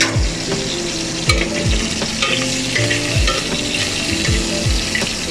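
Prawns sizzle loudly in a hot frying pan, a dense close crackle of frying. A utensil stirs and scrapes across the pan in repeated strokes, and no one speaks over it.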